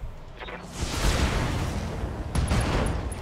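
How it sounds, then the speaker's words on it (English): Ammunition cooks off inside a mech in the BattleTech game, a rumbling chain of heavy booms and crackling blasts that swells and stays loud, with a second burst of sharp reports near the end. "Big ammo explosion."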